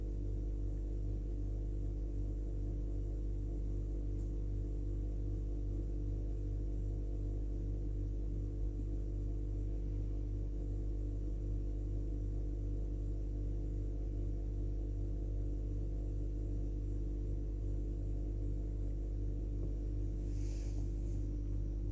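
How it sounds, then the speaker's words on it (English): Steady low electrical hum and throbbing drone from a computer, constant and fairly faint across the whole stretch, with no talking and only a brief faint high blip near the end. "Sorry about that noise if you can hear it. It's my"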